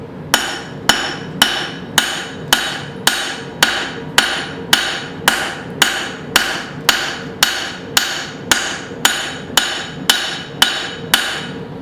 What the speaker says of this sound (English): This is actually the first time I've swung this hammer.